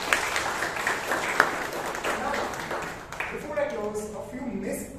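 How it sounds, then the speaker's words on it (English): An audience at a Toastmasters club meeting in Bangalore gives a round of applause for a table master, moderate clapping that thins out as a voice begins talking over it. "Can we have a huge round of applause for Prakarsh?"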